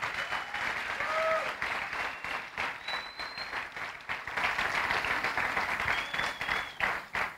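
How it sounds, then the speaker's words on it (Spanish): A church congregation gives sustained applause of encouragement, a steady wash of many clapping hands, fairly distant and even, with a few faint whistles or cries rising above it. "¿por qué no les damos un aplauso de consolación, de ánimo a los que no pudieron llegar?"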